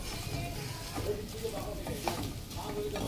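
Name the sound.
onion frying in hair oil in a pan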